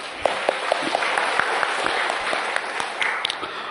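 Church congregation applauding during a Sunday service, a steady wash of claps with some sharper individual hits standing out, moderately loud and without talk.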